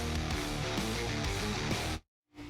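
Stock cars at the 2010 Brickyard 400 at Indianapolis roar past in a loud, dense engine drone that cuts off abruptly near the end, then fades back in briefly.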